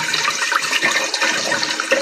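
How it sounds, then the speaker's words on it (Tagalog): A second batch of coconut milk is poured from close by into a cooking pot, a brief loud gush of liquid splashing and gurgling with no speech over it. "buhos na natin dito yung pangalawang gata"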